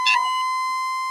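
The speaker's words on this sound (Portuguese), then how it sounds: "Posso pedir para rodar a outra vinheta agora da Sirene?" A siren jingle plays on air during a Brazilian football talk show: a short burst of bright tonal sound, then a steady high electronic tone that holds alone at moderate loudness for the rest of the moment.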